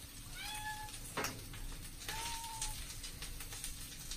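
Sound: cat meowing

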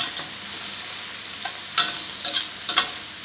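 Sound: vegetables cooking over high heat for pesto

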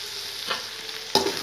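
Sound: stirring chilli chapati frying in a pan

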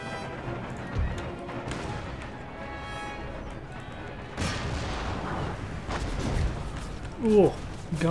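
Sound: gunfire in Empire Total War video game battle

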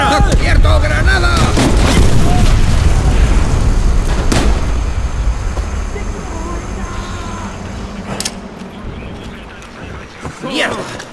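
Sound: grenade explosion in the video game Call of Duty: World at War

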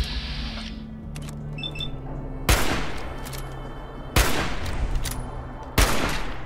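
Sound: gunfire in Fallout 4 video game

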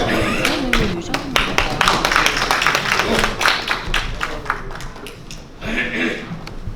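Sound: audience applause welcoming speaker

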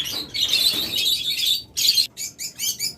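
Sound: pair of opaline lovebirds chirping

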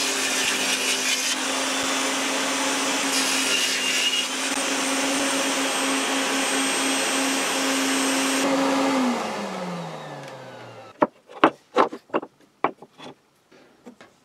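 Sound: table saw cutting grooves into wood

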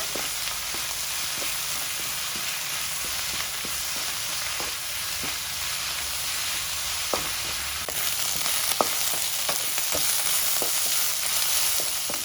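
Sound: drumstick leaves frying in oil with onion

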